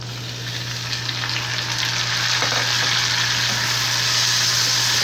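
Onions, a large tomato and curry leaves fry in a pan, giving a steady, dense sizzle close by that holds level throughout with a low constant hum beneath and no voices.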